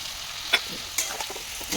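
Turmeric, salt and spices sautéing in hot oil in a pan, a soft steady sizzle with a few brief stirring scrapes and clinks, close and fairly quiet with no talk.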